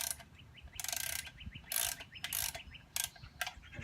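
Locking nuts being tightened on a toy excavator, a close ratcheting, clicking mechanical sound in short bursts, with quiet rustling between strokes and no speech.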